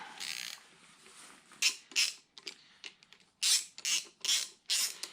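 A ratchet backs out oil pan bolts on a Dodge 318 5.2L Magnum V8, sounding in close, sharp bursts of rapid clicking separated by short pauses, loud and alone.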